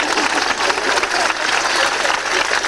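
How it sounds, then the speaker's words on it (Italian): An audience at a theatre comedy show claps in a dense, steady burst of applause lasting a few seconds, loud and close, with a voice faintly underneath. "Grazie signore dell'applauso"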